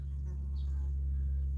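Honey bees at an apiary in Lakedemonovka, Rostov region, on a May morning after a pesticide poisoning, with young bees dying off; a steady, loud, close droning hum holds without a break.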